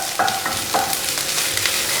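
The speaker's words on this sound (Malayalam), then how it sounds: "നന്നായിട്ട് ഇനി മിക്സ് ചെയ്ത് കൊടുക്കുക." Vegetables including capsicum and beans are stir-fried with chapati noodles in a pan, giving a steady close sizzle broken by a few sharp scraping stirs of the spatula.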